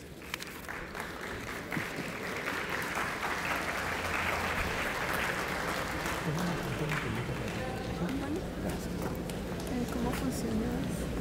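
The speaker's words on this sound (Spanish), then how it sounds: "vamos a recibirla con muy fuertes palmas" Steady, dense clapping from an audience at a scientific talk welcoming a speaker, sustained and even from start to finish.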